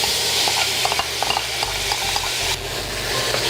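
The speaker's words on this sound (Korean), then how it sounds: "김치를 어느 정도 볶아줍니다." Kimchi is stir-fried in chili oil in a pan, with a steady close sizzle under repeated scraping and stirring strokes, no voices.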